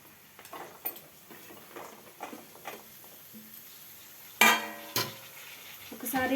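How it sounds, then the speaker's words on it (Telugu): Green beans frying in oil with ginger, stirred in a pan: a faint, steady sizzle with light scraping and clinking of a utensil, then a couple of louder knocks against the pan near the end. "ఒకసారి అంతా కలిసేలాగా నీట్గా కలుపుకుందాం"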